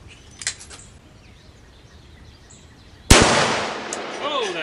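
A single very loud, sharp gunshot from a Magnum Research BFR revolver chambered in .450 Bushmaster cracks out after a quiet stretch, followed by a long ringing, echoing decay.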